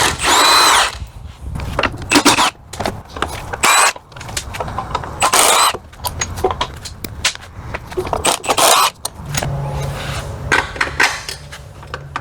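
A power tool zips out Tesla motor mounting bolts in repeated short bursts, loud and close, with clanks and pauses between runs and a quieter whir near the end.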